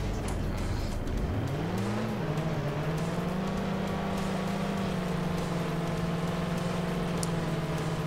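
Off-road 4x4 truck engine in the game 1nsane, revving up from idle into a sustained, steady drone that holds at a constant pitch, loud and close throughout.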